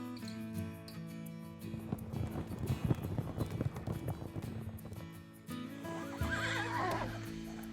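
A miniature horse whinnies loudly, a long shrill neigh rising over a busy outdoor background, followed by a second higher whinny near the end.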